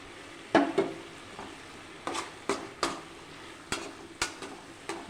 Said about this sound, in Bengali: দেখো এর মধ্যে আমি ভাজা চিংড়িগুলো দিয়ে দিচ্ছি।